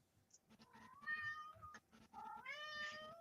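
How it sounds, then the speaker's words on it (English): A cat meows twice, close and fairly loud, each call a rising, drawn-out tonal cry with a quieter gap between them. "It is obviously a cat."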